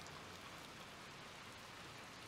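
Steady rain falls in the video game Little Nightmares 2, a faint, even hiss of drops on surfaces with no pauses and no voices.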